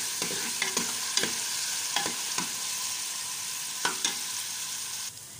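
Onions fry with a steady close sizzle in a pan, cooked until lightly pink, while a utensil stirs them in sharp scraping strokes at irregular intervals, with no talking.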